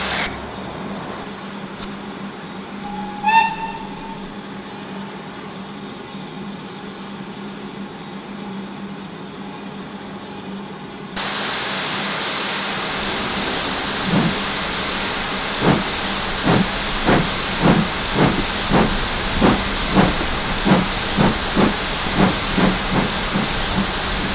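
Steam locomotive hissing while its boiler is watered, a faint hiss and a few clicks at first, then a sudden loud, steady steam roar from about eleven seconds with rapid rhythmic chuffing pulses building over it, no talking.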